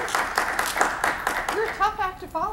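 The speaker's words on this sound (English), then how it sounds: "Yeah, big round of applause on that." An audience at a civic State of East Metro event claps, a burst of rhythmic applause in the first part before a voice takes over and talks alone.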